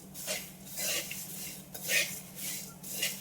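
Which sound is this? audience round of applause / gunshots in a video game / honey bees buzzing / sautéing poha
sautéing poha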